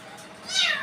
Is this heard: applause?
no